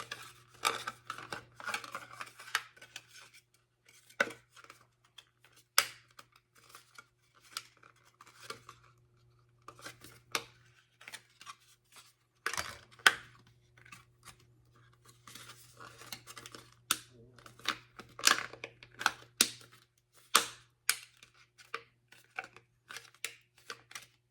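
Knife pushed and wiggled through material while trimming a piece for an ICAT biceps assembly: repeated sharp scraping and snipping cuts in close, uneven bursts over a faint steady hum, with no talking.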